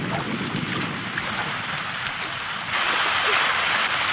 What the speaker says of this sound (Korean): 쏟아지는 빗줄기에 샤오샤오는 춘간과 함께 근처 창고로 몸을 피하는데